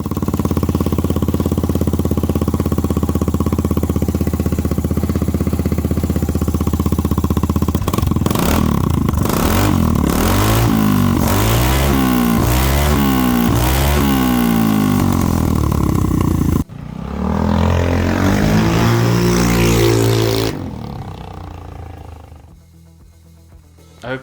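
Vespa GTS 300 scooter fitted with a REMUS custom exhaust and K&N intake, its engine droning steadily, then rising and falling through loud revs with a rough, rasping exhaust note before easing off near the end.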